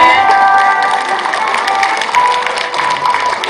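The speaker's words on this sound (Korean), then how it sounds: "박수가 작습니다 크게 쳐주세요" A large crowd claps steadily throughout, with scattered cheers and shouts over the continuous applause.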